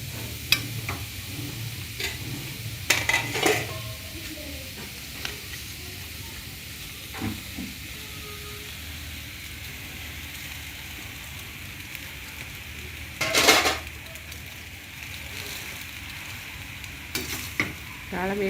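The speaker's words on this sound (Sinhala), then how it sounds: "දාලා මේක හොඳට කවලම් කරගන්න" Pasta with carrots is stirred in a frying pan, with scattered scraping and clattering strokes over a soft continuous sizzle and longer quiet stretches between stirs.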